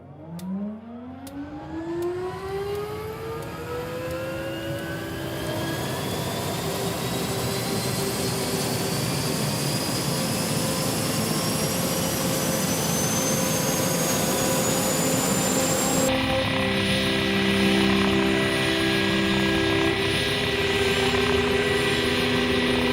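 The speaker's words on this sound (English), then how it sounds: "sound of that kind of helicopter. So the most beautiful sound I've heard in my life." A helicopter in the Andes during a rescue produces a loud, continuous turbine roar with a high whine that climbs steadily in pitch as it spools up. The sound stays dense and close throughout, with no talk.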